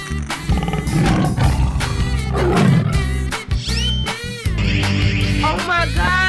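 A tiger in a 3D cartoon animal slide game lets out loud roars amid clattering game effects, sliding whooshes and upbeat background music.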